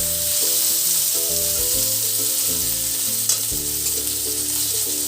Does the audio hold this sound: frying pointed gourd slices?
yes